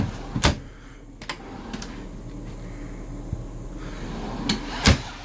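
Sharp wooden clunks and knocks of a kitchen drawer in a 2013 Tiffin Allegro Breeze diesel motorhome being opened and shut, a few spaced bangs with quieter rustling between them.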